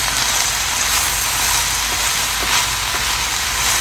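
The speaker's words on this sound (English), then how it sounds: "once the cabbage really starts to sizzle, you'll see it start to cook on the bottom." Cabbage sizzles in a hot pan on a stove, a loud steady hiss of frying filling the whole stretch without talk.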